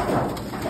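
Pet pigeons kept in a Bangladeshi loft coo softly and briefly against a steady background hiss, with no voices present.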